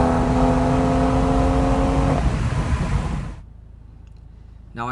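Tuned BMW M240 with a B48 engine and downpipe accelerating hard, a loud, rising engine roar for about three seconds that then cuts off abruptly into near silence.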